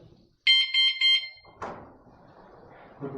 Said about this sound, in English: Put that alarm on.